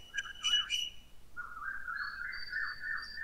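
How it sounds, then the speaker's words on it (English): Birds chirping outdoors, clear whistled tweets and a sustained warbling call, moderately close, with no talking and a faint low background rumble. "I hear the birds over there."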